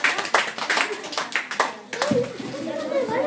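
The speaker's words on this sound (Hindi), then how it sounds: "जोरदार तालियां सुलोचना के लिए, बहुत बढ़िया।" Children in a classroom clap for a student in a short, brisk burst of applause, close and fairly loud, while a teacher and children talk over and after the clapping.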